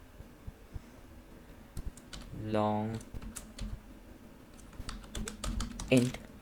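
Someone types code on a computer keyboard in quick, close bursts of clicking keys, with a voice speaking over part of it.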